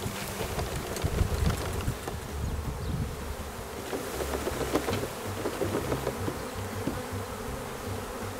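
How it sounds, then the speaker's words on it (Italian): Angry honeybees buzz loudly and steadily around a hive after being shaken into it, a dense continuous drone close to the microphone with faint wind noise. "Come vedete sono abbastanza arrabbiate"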